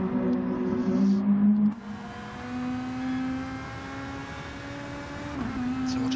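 Nissan race car lapping Brands Hatch in a racing game, its engine a loud, steady, buzzing whine that cuts off briefly around a shift. The pitch then climbs again as the car accelerates along the lap.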